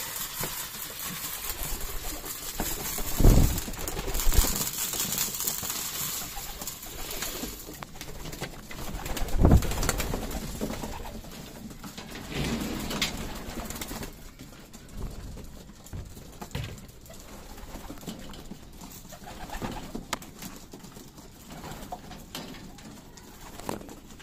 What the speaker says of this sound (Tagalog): May meron tayong mga bisitang kalapate